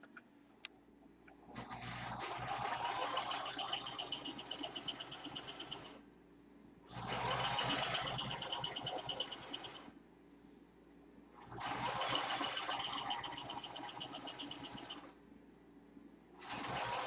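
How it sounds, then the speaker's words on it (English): A sewing machine runs in three bursts of several seconds each, stitching French seams on a blouse, with quiet pauses between the runs. "Then I'm going to sew going down like this."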